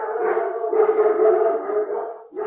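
Dogs howling close by, a loud sustained wavering howl that runs almost without a break, with a fresh howl starting at the end.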